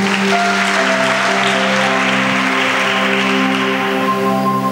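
A church congregation applauds in a steady, uninterrupted patter, with a sustained keyboard chord humming beneath the clapping from start to finish.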